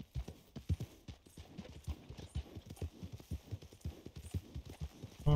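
Horse hooves clip-clop in a steady trotting rhythm in Red Dead Redemption 2 Online, many close, distinct thuds repeating evenly throughout, with no voices over them.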